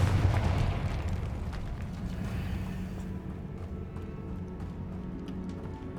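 The Confringo blasting spell goes off in Hogwarts Legacy with a heavy, rumbling explosion at the start. The boom fades into a long low roar and crackling debris, with no talking.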